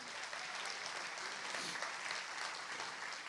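A church congregation at a Sunday sermon breaks into sustained, dense applause, steady and evenly loud from start to finish, filling the space with no pauses.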